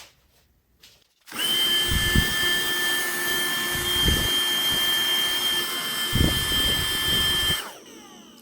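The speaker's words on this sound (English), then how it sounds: "let's vacuum that up immediately." A vacuum cleaner picking up loose scenery material from a model mountain switches on with a loud high whine, runs steadily for several seconds with a few low bumps, then shuts off.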